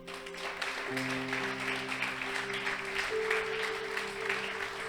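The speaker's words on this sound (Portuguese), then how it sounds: "Aplauda o Espírito Santo, irmãos." A church congregation claps steadily throughout, a dense wash of applause over sustained keyboard chords that shift partway through.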